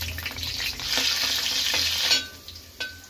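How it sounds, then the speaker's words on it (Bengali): Ginger and garlic fry in white oil in a kadai, making a loud, close sizzle that swells and then fades, followed by a couple of sharp stirring clicks. "তেলের মধ্যে দিচ্ছি কিছুটা আদা আর রসুন।"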